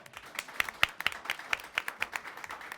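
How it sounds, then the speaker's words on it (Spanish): A small group claps in a debate setting, a sparse, fairly faint run of separate handclaps with a loose, uneven rhythm over about three seconds. "un aplauso para ella."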